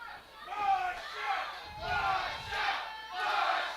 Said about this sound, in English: Listen to this factory crowd.